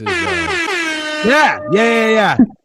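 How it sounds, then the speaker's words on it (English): Loud blaring air horn blasts, a long sustained honk followed by two shorter wavering bursts, harsh and close. "now all of a sudden you want air horn"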